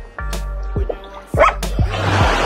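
A dog barks a few sharp times on a beach, close and fairly loud, with a broadband wash of surf or water noise building underneath toward the end.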